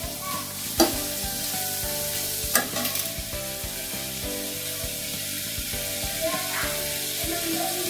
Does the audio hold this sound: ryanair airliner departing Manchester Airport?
no